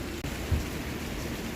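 Heavy rain pours down at a resort in Lonavala, a steady close wash of falling water with a brief deeper thump partway through, and no voices.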